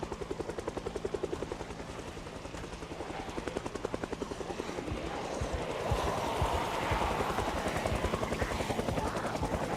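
A helicopter flies overhead in the Project Zomboid video game, its steady rapid rotor thumping loud and continuous, swelling slightly louder and broader partway through as it passes close by.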